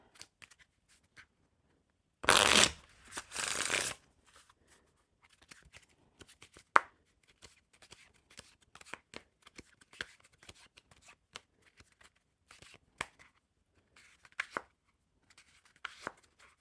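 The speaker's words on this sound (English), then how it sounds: "when I go to riffle shuffle it" Bicycle Club Tattoo playing cards are riffle shuffled in one quick, crisp burst, followed by quieter handling sounds, small taps and rustles.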